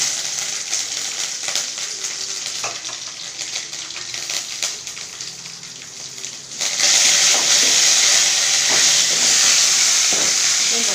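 A steady crackling hiss of mustard seeds, chilies and curry leaves sizzling in oil for rasam, which suddenly grows louder and brighter partway through as more goes into the pan.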